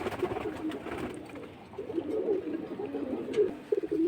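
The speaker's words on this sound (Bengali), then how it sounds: "আজকে যেগুলো দিতেছে ভাই সবই ফ্লাইয়ের কবুতর, এক দুই জোড়া ছাড়া।" Pigeons, flying-breed birds kept in pairs for sale, give off low, rolling coos that rise and fall repeatedly, close and moderately loud over a soft background murmur.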